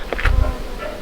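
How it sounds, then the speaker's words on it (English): Bees buzzing in the air at a beekeeping museum in Lithuania, a close, brief buzz rising and fading over faint background noise. "I can actually hear the bees"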